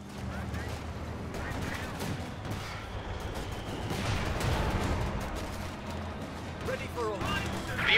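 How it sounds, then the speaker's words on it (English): Battlefield gunfire in the strategy game Company of Heroes 2 on the La Gleize map during a 4v4 match, a steady dense clatter of rifle and machine-gun shots with distant booms, mixed under unit voice lines. "Some bugger's shooting at us!"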